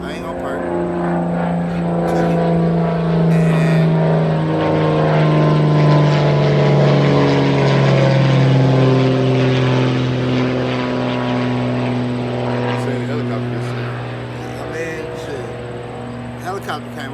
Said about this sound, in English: Helicopter came over